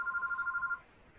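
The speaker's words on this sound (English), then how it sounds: "that's the phone." A telephone rings nearby with a rapid, warbling trill that stops abruptly partway through, leaving quiet afterward.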